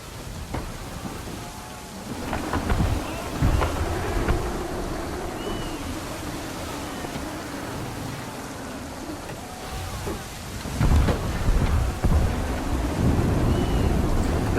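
Thunderstorm at sea in Assassin's Creed 3 on a sailing ship: steady heavy rain and wind hiss with deep thunder rumbles rolling in near the start and again louder toward the end, no talk.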